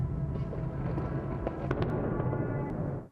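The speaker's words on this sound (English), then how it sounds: "Explosions rock the Ukrainian capital Kyiv, destroying apartment blocks and reducing city blocks to rubble." Explosions from a Russian aerial attack on Kyiv, Ukraine, rumble as a steady low roar across the city with a few sharper cracks near the middle, sustained and fairly distant, fading at the end.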